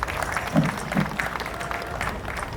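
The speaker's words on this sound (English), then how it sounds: "Please a round of applause once again." Audience applause after a speech at a Ghana–China industrial facility event, a steady, moderately distant wash of many hands clapping throughout, with a few louder claps near the start.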